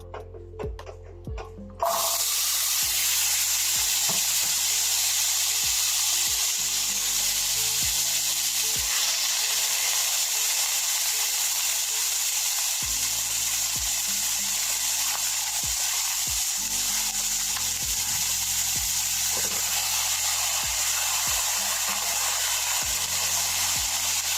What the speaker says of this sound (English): We are smoking the chickpeas,